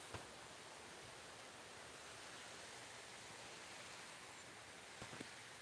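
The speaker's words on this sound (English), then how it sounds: "Now you see the waterfall close up. Enjoy the sounds of running water" A close waterfall roars steadily with dense, unbroken running water and no other sounds, on a cold day outdoors.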